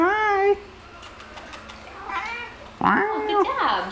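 A cat meows several times close by, a drawn-out cry at the start followed by quieter mews and a louder wavering call near the end, with a person's voice talking around it.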